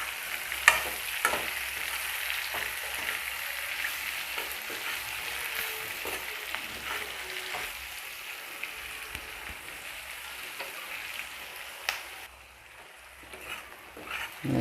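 Chicken feet for a spicy Nepali-style dish fry and crisp in a pan with a steady, close crackling sizzle and occasional sharp pops and stirring scrapes; the sizzle thins briefly near the end.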